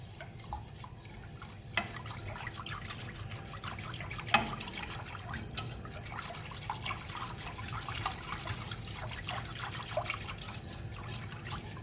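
A whisk stirs milk sauce for lasagne bolognese in a pan, giving a steady, faint liquid swishing and trickling with soft clinks throughout, alone without talk.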